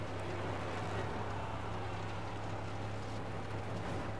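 Steady engine drone of a car driving across sand in the video game Mad Max, a loud continuous rumble that holds evenly throughout with no breaks.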